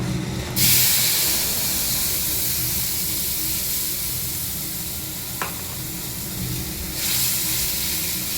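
Cumin seeds, bay leaf and dried red chili crackle and sizzle in hot oil in a home kitchen after rohu fish was fried, a loud steady hiss running throughout with a sharp spatter surge near the start and again near the end.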